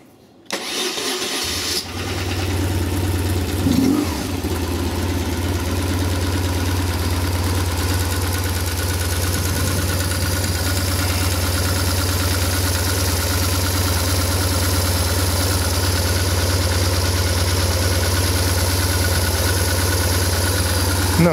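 A BMW R850R motorcycle engine starts cold and settles into a steady, smooth idle with a deep low rumble, close by and continuous.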